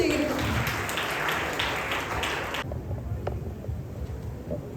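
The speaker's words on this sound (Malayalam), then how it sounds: "എല്ലാവരും കൈയടിച്ചെന്ന് സ്വീകരിക്കും." An audience in a church anniversary gathering applauds to welcome a pastor, producing a dense, steady wash of clapping that stops abruptly partway through, followed by quieter room noise.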